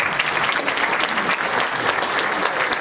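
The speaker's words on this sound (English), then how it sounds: "So round of applause for that." An audience claps in sustained, dense applause at an Educator of the Year recognition, steady and close throughout with no pauses.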